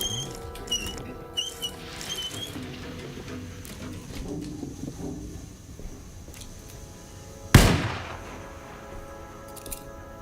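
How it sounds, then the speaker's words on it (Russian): A single sharp, loud gunshot fired by the player in a dark horror video game bursts out after a stretch of quiet, eerie ambience with faint chirping tones and low rumbles. "Второй раз стреляю, ничего не помогает."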